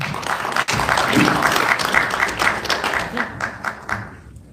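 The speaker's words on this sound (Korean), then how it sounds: "큰 박수로 맞이해 주시기 바랍니다." An audience at a seminar in a National Assembly conference hall claps steadily to welcome a speaker, a dense close burst of applause that tapers off toward the end.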